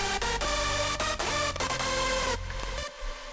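Overly loud hardstyle lead synth layer, with its sidechain trigger send left at full output, blares in dense distorted sustained chords that cut out near the end, alone without talk.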